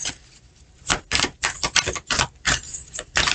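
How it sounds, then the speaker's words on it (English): Tarot cards are pulled and handled in a run of sharp, crisp clicking and snapping bursts in quick, irregular clusters, close and fairly loud, with short pauses between. "I'm going to pull a few more cards here."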